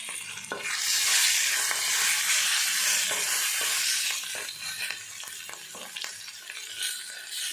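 Green chillies and dried red chillies frying with asafoetida in hot oil give a close, steady sizzle under scraping stirs that fades slightly as it goes on, with no talking.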